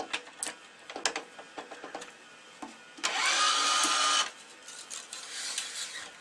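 Racket stringing machine pulling tension on a cross string while stringing a Prince O3 EXO3, a one-second motorized whir after a series of close clicks and clamp clatter, then quieter handling noises.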